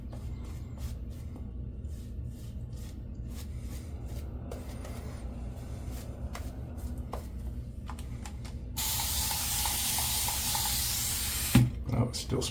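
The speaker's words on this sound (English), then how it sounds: "Oh, it's still spraying." Water sprays steadily under a low hum with scattered clicks and knocks, then a louder, brighter hiss of spray takes over near the end.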